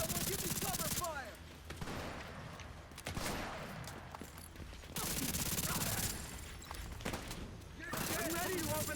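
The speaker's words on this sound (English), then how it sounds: "Someone give me cover fire!" Gunfire bursts in a video game, with dense, loud shots recurring through the clip and game voices talking over them.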